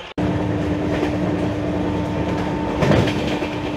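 A train at Kharagpur railway station, heard as a steady, close rumble with a low mechanical hum. A brief swell of louder noise comes near the end, and nobody speaks.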